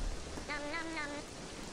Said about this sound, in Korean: 어우, 비가 오네.